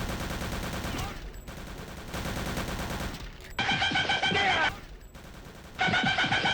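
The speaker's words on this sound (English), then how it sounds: "For SMGs there's an MP40 that has really good sound effect when shooting." Gunfire in the World War II shooter game Return to Castle Wolfenstein, apparently an MP40 submachine gun: loud, dense automatic bursts that start and stop in several separate runs, with no talking.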